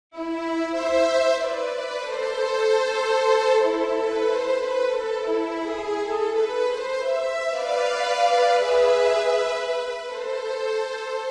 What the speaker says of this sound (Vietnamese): Hoặc là chúng ta có thể dùng tiếng string ấy,